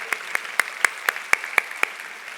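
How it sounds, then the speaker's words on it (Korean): Scattered, isolated handclaps at a church young-adult worship service, roughly eight distinct claps spaced evenly like a slow, sparse beat rather than a full crowd ovation, moderately close. "사랑의 박수를 부탁드립니다"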